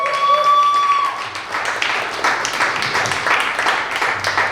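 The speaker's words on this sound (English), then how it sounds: "Give him a round of applause." Round of applause from the audience at a Black tech panel event, steady crowd clapping following a short tone, moderate and close, with a voice faintly underneath.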